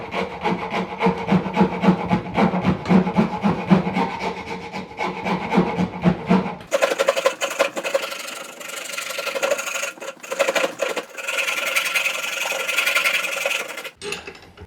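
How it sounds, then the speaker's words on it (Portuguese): A wood rasp files the edge of a round wooden piece in rapid back-and-forth strokes, loud and close; the scraping turns lighter and more uneven partway through, with short pauses. "Um dos segredos da grosa. Nunca passar num lado só, vai e vem no mesmo lugar."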